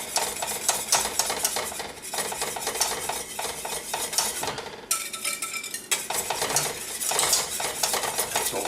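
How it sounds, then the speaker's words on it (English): Egg mixture is whisked into a pot off the heat, with fast, continuous metallic whisk scraping against the pot and one brief pause near the middle. The sound is loud and close, and no voices are heard. "Make sure you're whisking, okay?"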